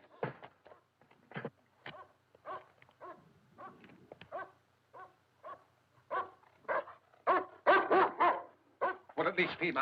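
A dog whimpers and yelps nearby in short, repeated bursts that grow louder and more urgent toward the end, in a scene from the 1972 horror film Tales from the Crypt.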